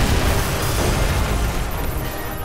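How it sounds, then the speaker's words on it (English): Heavy gunfire from the Killzone first-person shooter, a dense rumbling barrage of loud booming shots that blur into a continuous roar with no clear gaps, alone and without voices. "we wanted the sound of the guns to be really gratifying when you fire them"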